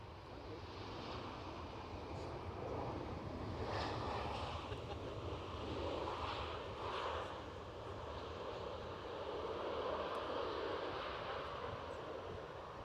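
A British Airways airliner at Edinburgh Airport sounds as a steady, moderately distant engine roar with gusty wind noise rising and falling across it, and no voices.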